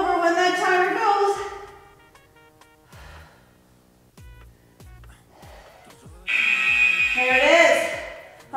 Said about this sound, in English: We're going to flip it over when that timer goes.